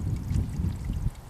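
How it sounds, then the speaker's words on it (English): A small frozen stream trickles and gurgles beneath ice on Dartmoor in winter, a close, low, uneven burble running throughout. "Got some frozen little streams here"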